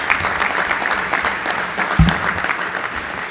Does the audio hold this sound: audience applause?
yes